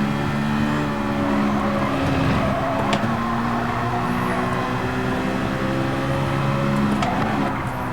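A racing car in a sim racing game, played on a Fanatec direct-drive wheel, with its engine droning steadily and continuously at high revs and no talk.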